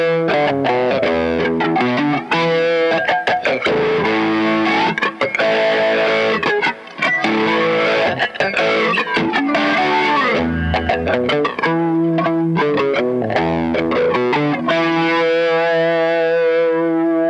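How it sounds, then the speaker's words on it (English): Electric guitar played through an Ibanez AF2 Airplane Flanger pedal with distortion and generous reverb: loud, sustained chords and notes with a sweeping jet-like flange, continuous for the whole stretch and ringing out at the end. "it also really shines with a bit of distortion, some mixed-in right-hand dynamics, and a tasteful heap of reverb"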